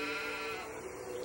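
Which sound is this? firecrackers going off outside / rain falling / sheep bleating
sheep bleating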